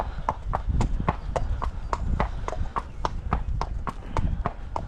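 A ridden mare's hooves clip-clop at a steady walking rhythm on a hard surface, loud and close, each strike distinct and evenly spaced, with faint breathing and tack sounds in between.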